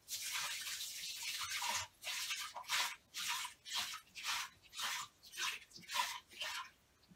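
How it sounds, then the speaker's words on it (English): Water splashes in a washroom as a tabo dipper pours it in repeated bursts, about nine rhythmic splashes with brief pauses, close but fairly quiet. "What's all that splashing I keep hearing in the washroom?"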